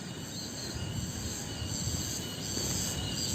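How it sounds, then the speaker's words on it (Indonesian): Cicadas buzz loudly and steadily in a high, continuous drone over a low outdoor rumble in a rural village by rice fields, with no voices. "suara tonggeret pun sangat saheng sekali"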